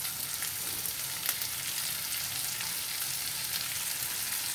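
Finely chopped onion sautés with ginger and garlic in a hot pan for prawns chilli, giving a steady, moderately quiet frying hiss with a light stir or two.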